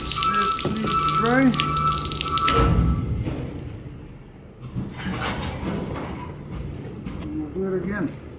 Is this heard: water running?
yes